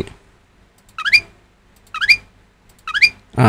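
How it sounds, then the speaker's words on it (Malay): Three identical short bird chirps from a Scratch sound effect play one after another at even intervals, each a quick bright trill against near silence. "bunyi burung, chip"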